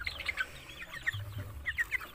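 Chickens clucking while being fed red rice on a farm: soft, scattered bursts of clucks and short calls, fairly faint and close, with no talking.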